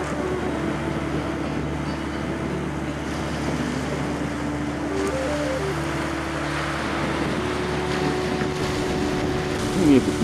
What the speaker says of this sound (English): The waves and currents continually grading and shifting the shingle into graceful organic